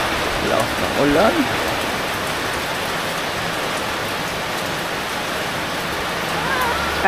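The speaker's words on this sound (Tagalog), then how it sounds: "Lakas ng ulan." Heavy rain pours steadily in a dense, loud hiss, with a brief voice near the start.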